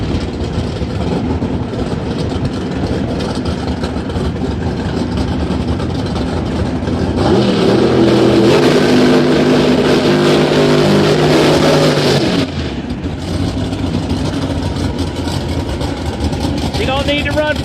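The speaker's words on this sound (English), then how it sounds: "Camry Caruso, Mountain Motor Pro Stock Camry Caruso" A Mountain Motor Pro Stock drag car, the Camry of Caruso, rumbles at Rockingham Dragway, its engine swelling into a loud, roaring rev for a few seconds before dropping back to a rough idle.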